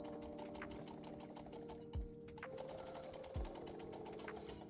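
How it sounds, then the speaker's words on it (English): Sewing machine stitching a quarter-inch seam on a self-binding baby blanket, a fast steady needle patter close up, briefly pausing and changing pace for back stitches, with no talk. "I'm going to give myself a 1/4 inch seam allowance, and I'm going to back stitch at the beginning and the end"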